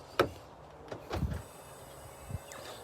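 An MG HS Hybrid's car door unlatches with a sharp click, followed by a few soft thumps and mechanical clunks as it swings open, fairly close.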